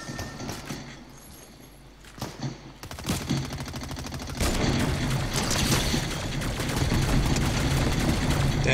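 Rapid automatic pulse rifle fire in a video game, loud bursts of dense repeated shots that build into a sustained barrage, with a few sharp single cracks before it.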